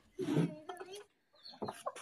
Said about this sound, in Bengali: এই যে আমাদের মোরগ মুরগিগুলো সব ছেড়ে দিব